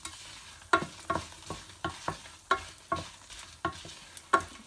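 Dried chillies, coriander and cumin fry in a pan with a soft sizzle beneath a regular rhythm of a spoon striking and scraping, about a dozen close, distinct knocks.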